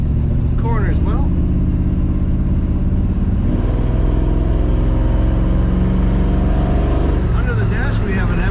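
1953 Chevrolet 210 post sedan driving, its engine running as a steady loud rumble through the whole stretch, with a voice talking over it.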